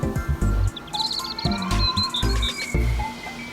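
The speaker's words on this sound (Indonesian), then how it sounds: "Ya, itu suara burung." Birds chirping in quick, high twittering bursts over a rhythmic, pulsing low background beat, fairly close and clear.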